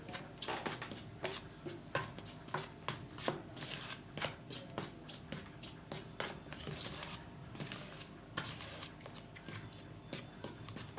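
Chicken breast being tossed and turned by hand with a little turmeric and seven-spice mix, giving close, steady rustling with quick scraping clicks, no voices.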